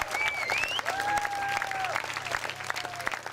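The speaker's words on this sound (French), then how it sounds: "je voudrais que vous remerciez chaleureusement par vos applaudissements l'équipe des arbitres" Audience applause for the referee team at a French improv match, a steady dense wash of clapping throughout with a few voices and whistle-like tones rising over it.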